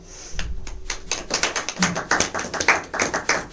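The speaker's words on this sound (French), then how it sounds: "je vais vous demander d'applaudir chaleureusement, s'il vous plaît." Warm applause from an audience at an opening speech for a humanitarian crisis-management serious game, a dense run of claps and taps that builds from a sparse start and stays loud and close to the end.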